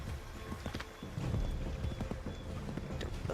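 Horse hooves clip-clop in Assassin's Creed III, a steady irregular trot of hoofbeats close up, with a brief whinny-like sound mixed into the background game noise.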